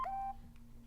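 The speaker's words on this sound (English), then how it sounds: "oh, my phone is on, no, that's my phone." A mobile phone goes off during a mathematics lecture on non-positively curved groups. It sounds as one short, bright electronic tone that cuts off quickly, leaving a quiet room hum.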